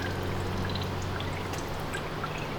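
Dish soap pours steadily into a car radiator in a continuous gurgling stream, close by, with no talking.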